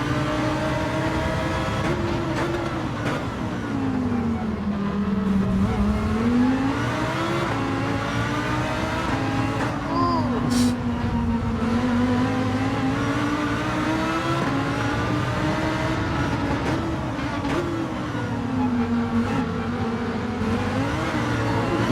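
Ferrari race car in Gran Turismo 7 launching at the start of an online race, a continuous loud engine drone rising and falling in pitch as it revs through gears, with other cars' engines blended in the background.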